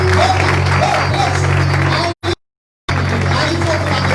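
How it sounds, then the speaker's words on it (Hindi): Loud crowd clapping at a religious awareness seminar, continuous for about two seconds before cutting abruptly to silence, then resuming just as strongly, with voices blended into the applause. "जोर दी ताली"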